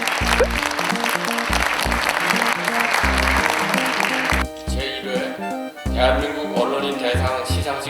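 Steady applause from a crowd at a Korean journalism awards ceremony over loud music with a thumping beat, the clapping continuing throughout.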